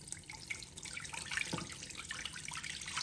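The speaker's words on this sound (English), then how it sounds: "I'm gonna put my 4 cups of water in just like this." Water pours into a Power XL cooker in a steady trickling stream with splashes and drips, close and moderately loud, with no voices.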